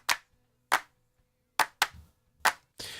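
Recorded hand claps from a mixing session, each layered from several clap samples, land as six sharp, close, dry hits with uneven spacing and a brief snap at the end, and no voices over them.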